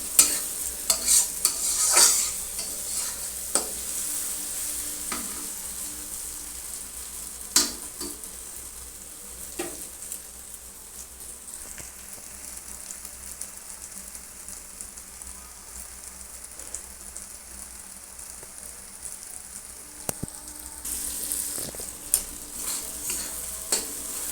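Tomato fries in oil for a tarka, a soft, steady sizzle broken by sharp scrapes and clinks of a spatula stirring the pan at irregular intervals.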